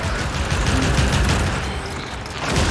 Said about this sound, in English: Destroy it with weapon fire.